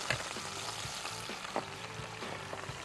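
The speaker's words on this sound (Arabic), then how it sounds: "هي هنا محتاجة تحمير تاني" A chicken and minced meat roll frying in a pan: a steady, close sizzle with occasional soft clicks and pops, with no voices.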